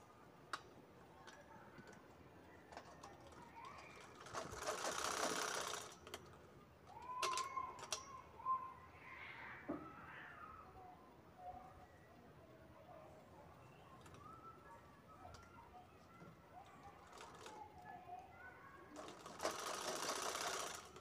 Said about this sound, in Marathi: त्यानंतर ते कोपरे शिवून घ्यायचे आहेत आपल्याला.